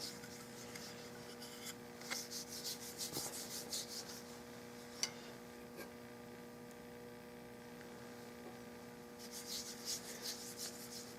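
A hand rubs finish into the wooden stock of a 1906 Winchester gallery gun, soft repeated rasping strokes in bursts over a constant faint mains hum, close and quiet.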